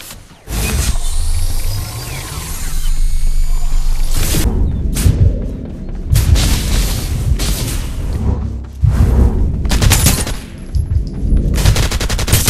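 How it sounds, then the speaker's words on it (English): Sustained heavy gunfire in Farlight 84 gameplay, with dense automatic bursts, booming impacts and repeated rapid volleys, loud and close throughout with only brief pauses. "Open fire!"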